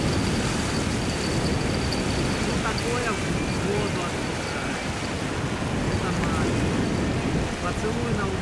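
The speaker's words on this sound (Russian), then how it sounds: "Ветер, а с ним и волны, понемногу успокаивались." Strong wind buffeting the microphone and waves slapping on a lake where fishermen are out, a loud continuous rushing roar with a person's voice faintly under it.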